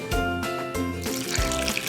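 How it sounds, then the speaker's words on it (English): Water running from a tap into a cooking pot while making Lebanese koosa, a continuous close pour with tonal, ringing resonance that shifts as the pot fills, briefly interrupted twice. "Fill the pot with water,"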